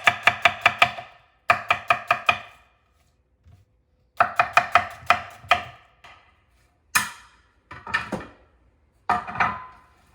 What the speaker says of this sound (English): Just bring your knife down like that, and you're gonna get sticks.